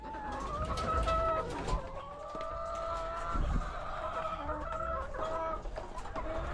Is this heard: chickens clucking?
yes